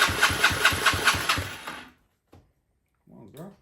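A 70cc ATV engine turning over with the choke on, a rapid rhythmic chugging for about two seconds that stops abruptly, followed by silence and a brief burst of voice.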